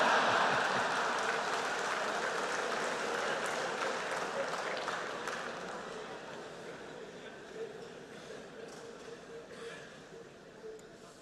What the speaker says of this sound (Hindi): आया हूं इसकी ताली बजा रहे हो।